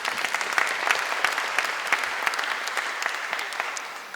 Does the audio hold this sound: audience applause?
yes